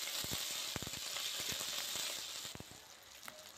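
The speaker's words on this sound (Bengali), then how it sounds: "তো আদা রসুনটাও আমি ভেজে নেব।" Ginger, garlic and a whole large tomato fry in a pan for a fish curry: a steady bright sizzle with scattered pops and stirring knocks, close and continuous, with no voices.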